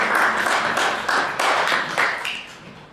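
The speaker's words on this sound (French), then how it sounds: "Vous pouvez vous applaudir les dames" Women at a March 8 diaspora celebration clap together, a dense, steady burst of close applause with individual hand claps standing out, lasting the whole stretch.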